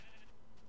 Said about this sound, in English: that sheep just fell out of that tree